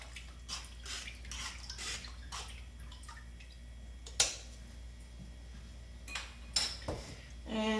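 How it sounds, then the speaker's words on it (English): A spoon stirring salt into water in a metal pot, with intermittent clinks and scrapes against the sides, a few sharper knocks and light watery swishes, all fairly quiet and close. "You can give it a little stir."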